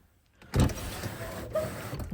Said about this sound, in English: So now it goes down smoothly and all the way up smoothly.